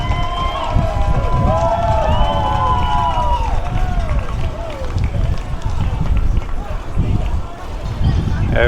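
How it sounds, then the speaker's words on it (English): A crowd screams and cheers at a video shoot reenacting a race, with shrill rising and falling shrieks over a busy, rumbling outdoor background, carried steadily at a moderate distance. "They're screaming and cheering."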